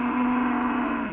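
A cow at a cattle market lets out a single sustained, steady moo that holds level for about a second before trailing off, fairly loud and close with no talk over it.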